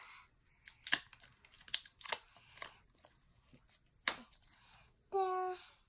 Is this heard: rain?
no